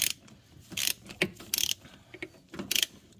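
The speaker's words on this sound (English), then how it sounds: "I'm gonna tighten up that flex U-joint, the bolt underneath that U-joint to the rack" A ratchet tightens the bolt on a flex steering U-joint at the rack of a Honda, with repeated bursts of rapid clicking, close and crisp, separated by short pauses.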